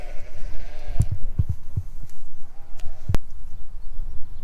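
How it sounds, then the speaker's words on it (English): Sheep and young lambs bleat in a field beside old Welsh farm cottages during lambing season, a few short bleats and thumps in the near distance over a soft outdoor background. "Gonna be a lot of sheep sounds in the next 2 months."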